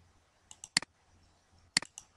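Mouse clicks on a computer while working in phpMyAdmin, quiet and close: a few light clicks in one cluster, then another small cluster a second later.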